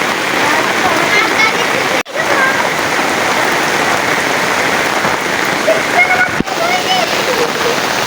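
Heavy rain pours down in Sambalpur, a dense continuous hiss of drops hammering surfaces nearby, loud and unbroken apart from two brief dropouts, with no talk over it.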